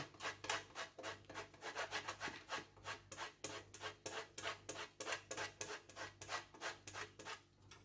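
Hard cheese grated by hand for spaghetti aglio olio, a rhythmic rasping scrape repeated in quick, even strokes, close and fairly quiet with no voices.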